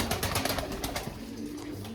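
Pigeons coo softly and repeatedly, low throaty calls rising and falling close by, with faint background rustle.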